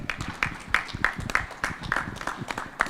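An audience at an event applauds a singer coming on stage, with a scattered, steady patter of hand claps at moderate volume throughout.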